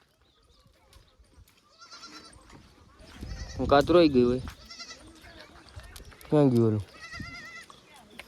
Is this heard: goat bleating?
yes